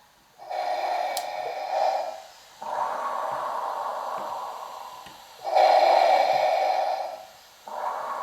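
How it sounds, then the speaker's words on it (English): A Darth Vader costume's breathing effect plays close and loud, with slow, mechanical inhale and exhale cycles of hissing, filtered air repeating steadily. "the breathing can be heard in the background. So it's lifelike in that Vader is always breathing."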